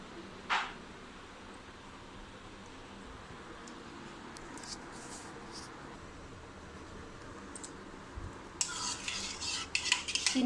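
A spoon stirs sugar in a pan on a gas stove, melting it into caramel for a pudding. Faint scraping and clinking run low and steady throughout, with sharper metallic clatter rising near the end.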